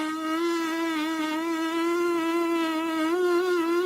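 A trumpet player's lip buzz holds one wavering, nasal mid-pitched tone, straining but never reaching the higher note. The buzz is close and continuous for a few seconds.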